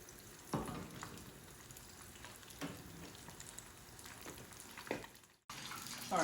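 Spring rolls for Vietnamese cha gio deep frying in a pan of hot oil, a steady bubbling sizzle with a few louder crackling bursts as pieces go in, heard close and without talk.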